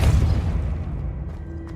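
The Depulso spell in the video game Hogwarts Legacy goes off as one loud, booming blast with a deep thud that decays into a rumbling tail, alone and up close.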